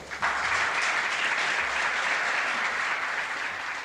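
Steady applause from a crowd for Zubizarreta as he retires after the 1998 World Cup, a dense, even wash of clapping that starts abruptly and holds its level throughout.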